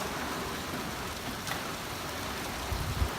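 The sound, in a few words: heavy rain during Hurricane Irma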